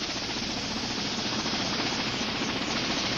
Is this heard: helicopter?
yes